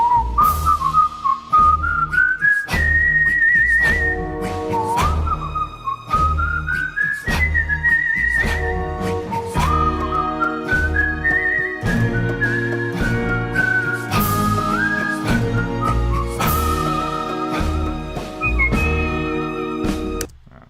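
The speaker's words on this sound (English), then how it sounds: "I have to re-listen to this first whistle" A mix played back through monitors carries a prominent melodic whistle over a steady band backing, the whistled tune gliding and holding notes loud and continuous for about twenty seconds.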